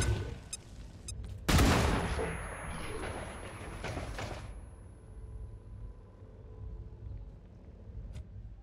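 A flashbang and gunfire in the video game XCOM 2: a sudden loud, sharp blast followed by a few seconds of rumbling, crackling reverberation that fades into a quieter background.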